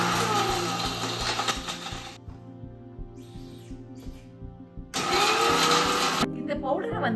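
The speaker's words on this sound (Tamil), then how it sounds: "அதனால மிக்சி வந்து கெட்டு போயிடாம இருக்கிறதுக்காக நடுவில் அப்பப்ப கொஞ்சம் ஆஃப் பண்ணிட்டு திரும்ப கிரைண்ட் பண்ணிக்கலாம்" A mixer grinder whirring through detox drink ingredients, loud and close, runs in two bursts with a quieter pause between them while a voice talks over it.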